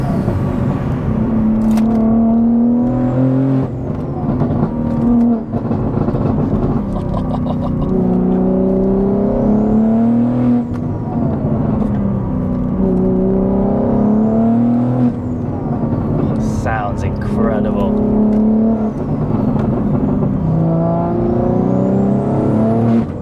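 A 1000+ BHP single-turbo BMW G80 M3 revs and accelerates repeatedly, its loud, close engine note climbing in pitch with each pull, with whooshing turbo sounds between runs and no talk.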